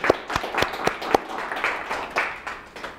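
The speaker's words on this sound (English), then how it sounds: "let's just give Guido a round of applause for his work on Python" A small meetup audience at a Python user group in Edmonton gives a round of applause, several distinct sharp claps at first, then thinning into scattered softer clapping over a few seconds.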